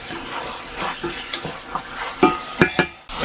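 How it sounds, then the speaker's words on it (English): Ground beef and mushrooms cooking in a cast iron pan, a low sizzle broken by sharp scraping and clattering stirs of a utensil against the metal, close by and with no speech. "Now that the ground beef is almost done, I'm going to add my mushrooms."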